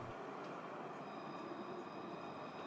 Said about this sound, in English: They have some enormously long trams here.